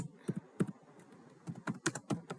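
Fingers type code on a computer keyboard at close range, giving irregular bursts of crisp key clicks separated by short pauses, with no talking.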